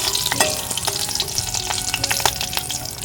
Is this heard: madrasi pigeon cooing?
no